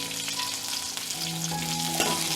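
Curry leaves hit hot oil with a continuous, close, crackling sizzle that holds steady throughout, a few sustained background tones humming beneath the spitting fry.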